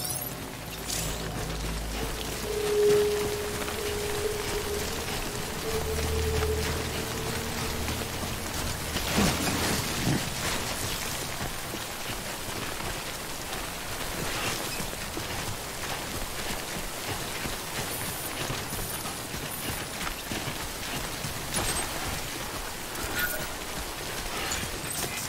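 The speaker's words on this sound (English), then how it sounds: "Good thing it was raining." Steady rain hisses down throughout the Death Stranding game scene, a continuous broadband patter with occasional louder gusts and faint mechanical sounds underneath.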